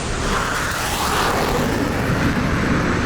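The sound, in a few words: airplane flying overhead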